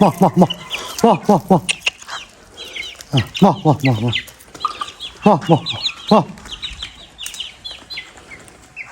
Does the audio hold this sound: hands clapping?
no